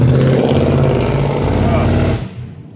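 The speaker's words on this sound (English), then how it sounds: "Let that loud truck pass." A loud truck rolls past outside near a shed being fitted with outdoor plugs, its heavy engine roar filling the scene before fading away over the last half second.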